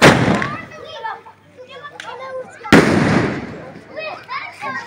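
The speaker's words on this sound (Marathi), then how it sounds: "जोगलादेवी येथील शेतकऱ्यांनी फटाके वाजवून" Farmers in Jogladevi set off firecrackers to celebrate a sugarcane price announcement, with two sharp close bursts followed by crackling pops and a voice speaking amid the noise.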